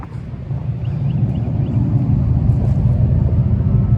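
Low, steady rumble from the rear speakers of a 2025 Dodge Charger Daytona Scat Pack electric car simulating exhaust sound, a droning hum that swells slightly and holds at a constant level.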